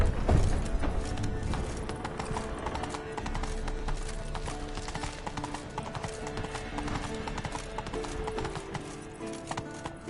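Horse hooves clip-clopping at a brisk, steady rhythm in The Witcher 3, close and continuous for about ten seconds with a brief neigh near the start and game ambience underneath.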